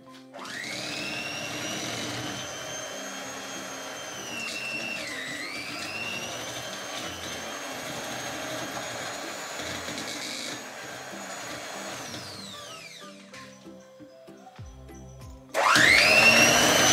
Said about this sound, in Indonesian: Kita mau mulai mixer untuk si butter dan telurnya ya.